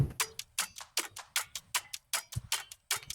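A percussion split from an electronic production, crisp clicky hits split between centre and left, ticking in a fast even pattern of about three per second, close and dry with nothing else playing.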